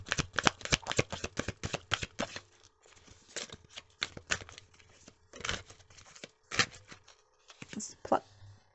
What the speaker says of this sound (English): We're going to pull 3 cards from the tarot.